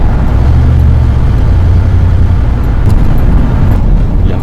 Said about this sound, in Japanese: また2速ホールドフルスロットルでいきます。